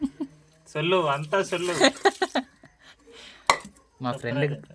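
Dishes clatter and clink amid splashing water while people talk and laugh over the washing.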